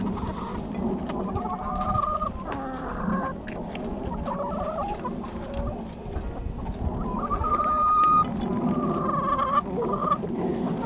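A flock of chickens packed into one coop clucks and chatters continuously. Overlapping calls come from close by at a fairly loud, busy level with no talking.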